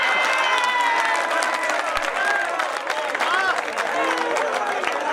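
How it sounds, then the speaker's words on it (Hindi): Audience applause at a Hindi comedy poetry show, a steady wash of clapping and crowd noise lasting throughout, with a voice and other tones carrying over it. "जोरदार ताली एक बार।"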